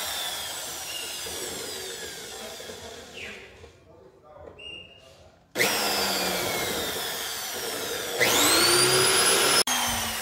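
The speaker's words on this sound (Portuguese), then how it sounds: "Vem com a furadeira, né?" A power drill whirring in sustained bursts as it drills into the body of a Corsa hatchback, its pitch rising as it spins up, loud and close, with brief pauses between runs.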